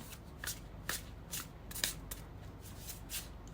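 Tarot cards being shuffled by hand, soft papery riffles and slaps recurring in a loose rhythm, close but quiet, with no speech over them.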